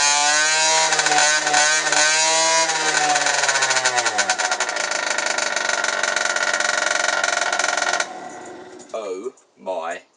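Moped engine fitted with a loud, straight-through sports exhaust, revving hard near the mic with a rising buzz and sustained high-rpm drone before cutting off, then a few brief exclamations.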